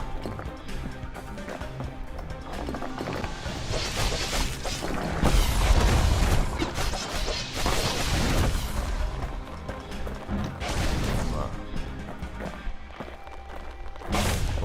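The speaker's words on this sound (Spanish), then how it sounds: "Toma, disparo potente, cabrón." A powerful shot fires in the action game Bastion, with heavy booming impacts and crashes rising over busy game music and effects, loudest in the middle.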